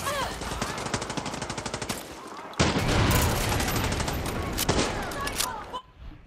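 Automatic gunfire in the video game Far Cry 6 during a boss fight, loud rapid bursts of shots with a dense sustained volley, mixed with game effects.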